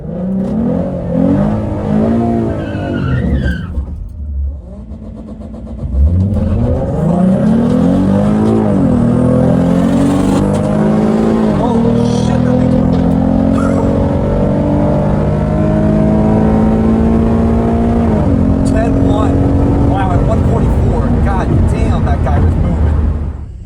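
A 2014 V6 Mustang makes a drag strip run, heard from inside. After a brief lull the engine launches hard and revs up through rising sweeps, with gear changes marked by sharp drops, and stays loud and sustained to the end.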